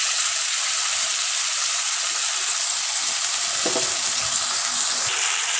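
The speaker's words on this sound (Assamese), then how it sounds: "এয়া মছলাখিনি ভাজি পেলাই হৈ গৈছে।" A spice mix of turmeric and salt sizzles and fries steadily in a pan for a curry, a constant hiss with a brief stirring scrape midway.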